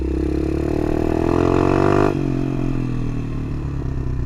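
A pit bike engine, ridden rough over dirt, revs loud and close as its pitch climbs steadily, then drops sharply on a gear change and keeps droning at a lower note.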